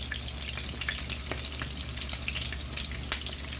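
A salmon patty frying in an oiled pan gives a steady, close crackling sizzle with scattered sharper pops, all at an even level and with nobody talking.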